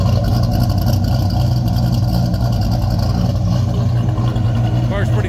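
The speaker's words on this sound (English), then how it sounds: "Heck of an exhaust note." A 1984 Chevy Monte Carlo SS with a swapped-in LS engine and aftermarket mufflers idles with a deep, steady exhaust rumble, loud and close, with no break in the drone for the whole few seconds.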